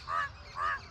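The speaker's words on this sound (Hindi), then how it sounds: "एक कौआ काला वाला कैसे बोल रहा है।" A black crow calls twice in quick succession, two harsh nasal caws from nearby over quiet outdoor background.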